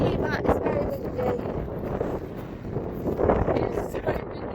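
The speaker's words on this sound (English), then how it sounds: "It's too windy. It's just too windy." Strong beach wind buffets the microphone, a continuous loud roaring rush that swells and fades, with voices talking partly under it.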